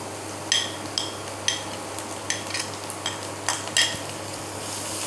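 A spoon stirs and mixes a filling with carrot in a pan, with a series of sharp metallic scrapes and clinks at an uneven rhythm over a low steady sizzle. No one speaks.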